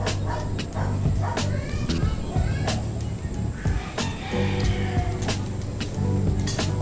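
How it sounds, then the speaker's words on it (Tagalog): Several short, sharp dog barks and yips ring out at intervals over a noisy outdoor background, moderately distant. "Ako may aso yata."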